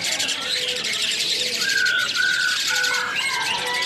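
White starlings call in a busy bird shop, giving repeated whistled notes over a dense background of many chirping birds, loud and continuous throughout.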